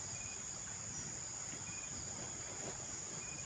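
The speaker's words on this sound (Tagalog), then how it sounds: "Kininig ko lang palaka, kuliglig." Crickets chirp in a steady, shrill night chorus at a nature campsite, a faint continuous trill with little else around and no voices.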